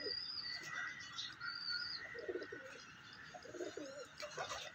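Ferozpuri and Teddy fancy pigeons coo in soft, repeated low bursts, a few rising in brief rhythmic phrases against steady ambient chirping and outdoor background noise, with no talk.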